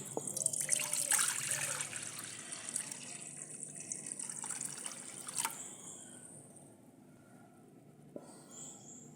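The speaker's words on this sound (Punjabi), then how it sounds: "ਹੁਣ ਆਪਾਂ ਪਾਣੀ ਪਾਵਾਂਗੇ" Water is poured into a kadai set on a village fire for making banana snacks, a bright splashing rush at first that fades to a quiet trickle and drips.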